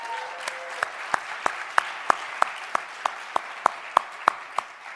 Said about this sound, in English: Can we give Laura a round of applause?